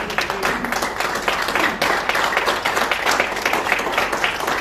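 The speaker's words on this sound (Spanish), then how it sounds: "Un aplauso a nuestro Señor." A church congregation breaks into loud, sustained applause during a worship service, with dense clapping from many people and voices mixed in.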